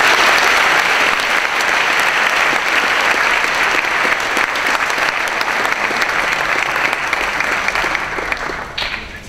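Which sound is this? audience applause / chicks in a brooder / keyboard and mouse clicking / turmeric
audience applause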